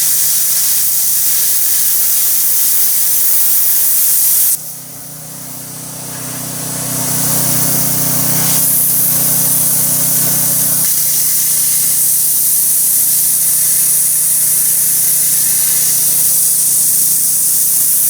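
A cheap Amazon 110-volt plasma cutter cuts metal with a loud, steady hiss that runs almost the whole time. The sound shifts and drops briefly partway through as the arc changes, then carries on strong.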